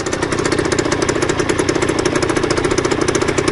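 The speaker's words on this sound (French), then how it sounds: "il y a un petit bruit de fuite à l'échappement parce que c'est pas tout à fait au point" A Beta 50 RR two-stroke motorbike engine runs steadily up close with a rapid, even popping rhythm from a small exhaust leak, loud and continuous throughout with no talking.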